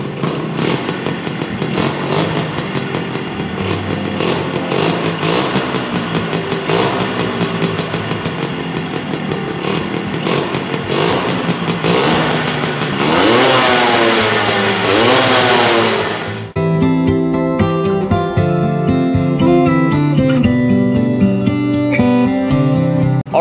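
Modified Yamaha RX 100 two-stroke built as a custom retro cafe racer, revving hard and raspy up close in rising bursts before settling into a loud, steady idle over background music.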